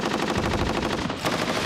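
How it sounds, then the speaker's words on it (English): Rapid, continuous machine-gun fire, a steady stream of loud shots close by with no pauses across the whole stretch. "he was then filmed firing a machine gun in what seemed a random manner"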